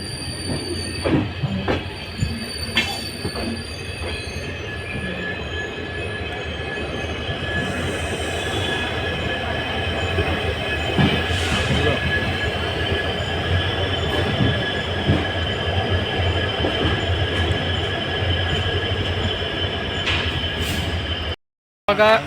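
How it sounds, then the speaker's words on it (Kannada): The Mysuru Swarna Jayanti Superfast Express runs on the rails near Hassan, India, with a steady heavy rumble, squealing wheels and occasional clacks, loud and close, cutting out abruptly near the end. "ನಮ್ಮ ಟ್ರೈನ್ ಬಂದು ಇವಾಗ ಇದು ಹಾಸನಿಗೆ ರೀಚ್ ಆಗಿ"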